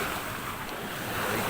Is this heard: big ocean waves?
yes